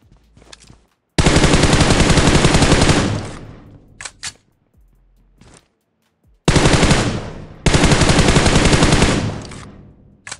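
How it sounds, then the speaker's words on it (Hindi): Sustained automatic gunfire from a PUBG Mobile match, two long loud bursts of rapid shots separated by short single shots and near-silence, no talking. "उन बंदों को बुलाने के लिए मैं यहाँ पर फायर लेता हूँ"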